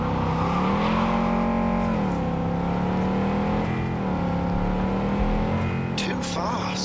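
A car races along in Cyberpunk 2077, its engine holding a steady high drone with slight pitch swells as it speeds, loud and continuous, with a brief clatter near the end.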